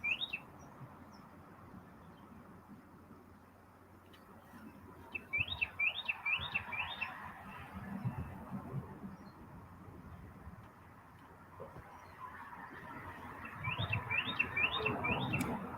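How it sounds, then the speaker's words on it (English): A bird chirps outdoors in quick bursts of rapid repeated tweets, first early on and again near the end, faint against low background noise and rustling. "bird flew by and took my attention"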